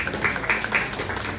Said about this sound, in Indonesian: Tepuk tangan dulu untuk kedua toko buku ini